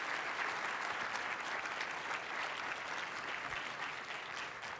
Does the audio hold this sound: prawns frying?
no